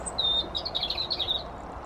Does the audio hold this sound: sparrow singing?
yes